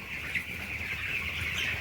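Soft, continuous clucking from a flock of meat chickens in a barn, steady and close, with a faint bright chorus of calls layered throughout.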